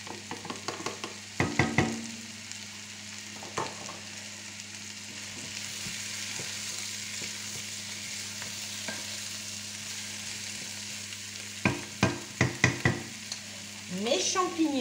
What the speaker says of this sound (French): Je vais mettre mes poireaux.